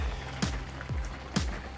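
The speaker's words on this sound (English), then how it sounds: "And it started raining on me." Rain patters on an umbrella outdoors beside a Weber Smokey Mountain smoker, soft and close, with a couple of heavier drips or taps standing out against the quiet background.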